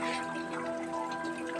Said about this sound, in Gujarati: વરસાદ બંધ થતો નથી